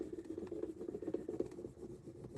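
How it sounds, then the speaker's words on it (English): Vinyl decal being burnished down onto a sweetener container, a steady close rubbing and scraping that runs continuously with small rhythmic pulses, no voices. "Okay, burnish this down a little bit. Hopefully it'll stick better here."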